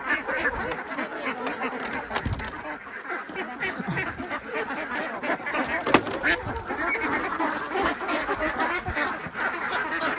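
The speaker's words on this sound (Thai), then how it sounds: "เป็ดไข่สาวนะครับ" A crowded flock of young Khaki Campbell laying ducks quacks continuously and loudly, overlapping calls with occasional louder honks, no pauses.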